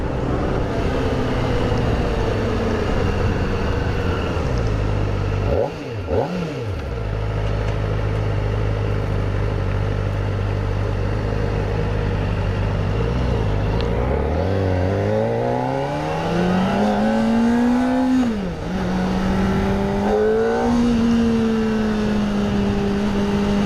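A 2023 Kawasaki ZX-4RR sport motorcycle engine drones loudly and steadily while riding, dipping briefly as it shifts, then rising in pitch through repeated revving accelerations and gear changes.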